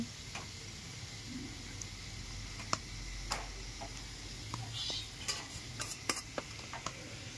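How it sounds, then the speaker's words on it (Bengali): Rui fish pieces frying in a pan for a banana flower ghonto, with a low steady sizzle under scattered clicks and taps of utensils against the pan. "মাছগুলো ভাজা হচ্ছে"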